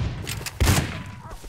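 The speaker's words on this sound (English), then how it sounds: "People shooting? Yep. Are they shooting at you?" Gunfire in the survival video game Rust, a short burst of several fairly close shots in quick succession with a louder crack in the middle, softer shots trailing after, and no talking.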